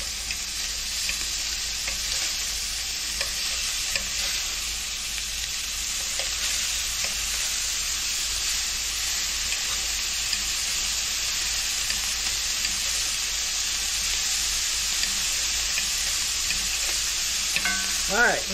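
Sauerkraut and hot dogs fry in a cast iron skillet with a steady, dense sizzle and hiss, close up, and occasional faint stirring scrapes, no talking.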